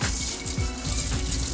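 Tap water runs steadily from a faucet onto a towel being wetted for a hot-towel treatment during a haircut, a close, continuous gush with slight pulsing.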